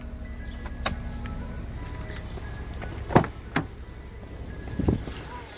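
Inside a 2018 Infiniti Q50 3.0T Sport, a rear fold-down seat is released and tipped forward, giving a few sharp clicks and thumps over a quiet cabin background, with no talking.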